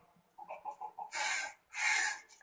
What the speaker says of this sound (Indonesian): Ringtone setan ayam.